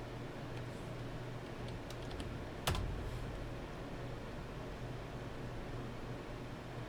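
Computer keyboard typing, faint soft key clicks over a steady background hiss, with one sharper click partway through and no talking.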